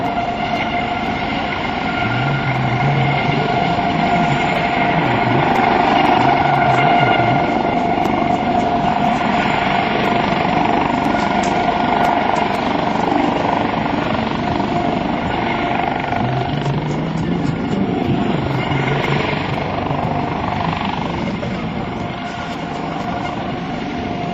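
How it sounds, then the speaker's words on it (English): Coast Guard HH-65C Dauphin helicopter at an airshow, a loud, steady turbine whine and rotor roar that holds throughout. "They operate 7 Dauphin helicopters like you see here today"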